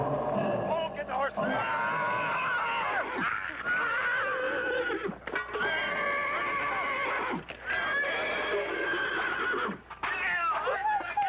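A horse whinnies repeatedly in long, loud, quavering neighs from a 1977 Sasquatch film, with clip-clop and voices mixed in beneath.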